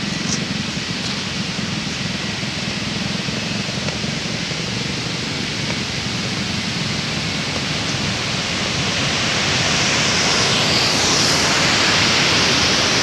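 A waterfall at a fishing spot sends up a dense, constant rushing roar that fills the air evenly and grows a little louder toward the end, with no voices over it.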